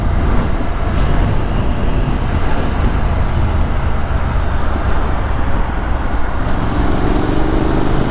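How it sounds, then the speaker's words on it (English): A 2022 Triumph Scrambler 900 motorcycle engine roaring at riding speed, a loud, continuous, rumbling drone mixed with rushing wind, steady throughout. "But I just love the roar of the engine."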